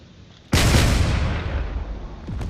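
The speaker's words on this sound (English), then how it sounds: "Point defenses are starting to kick in" Point defense guns in a space strategy game firing at incoming torpedoes: one sharp, loud blast that swells into a sustained roaring rumble, slowly fading with a faint second crack near the end.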